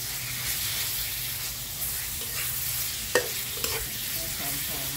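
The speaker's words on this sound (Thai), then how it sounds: "แล้วเราจะคั่วหมูให้แห้งนะชอบผัด หมูสามชั้นล้วนๆให้แห้งให้เข้าเครื่องแกงก่อน" Pork belly stir-fried with curry paste in a pan over low heat, a steady close sizzle and hiss broken by a couple of sharp scrapes of the spatula.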